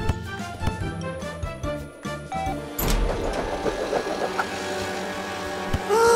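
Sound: cartoon vehicle speeding with a new exhaust

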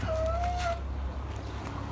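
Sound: chickens clucking

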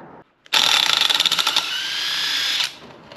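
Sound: rebuilt alternator with pulley spinning

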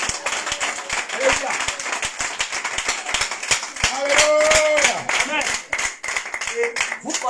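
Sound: congregation applauding and acclaiming Jesus in church

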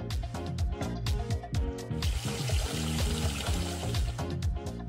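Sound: pouring water into a toy saucepan

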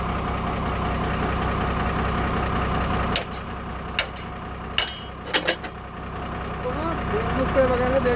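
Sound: motorbike engine running in gear

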